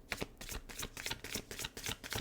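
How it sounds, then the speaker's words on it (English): Tarot cards are shuffled by hand in a quick, even run of crisp riffling bursts, about ten papery flutters close to the listener, with no voices over them. "Let me shuffle a few more times."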